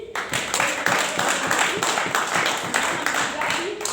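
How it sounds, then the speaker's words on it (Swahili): A church congregation claps to welcome worshippers joining the Sunday service online. Steady, moderately loud applause rolls on throughout while a voice keeps speaking over it. "nisaidieni kuwakaribisha kwa makofi"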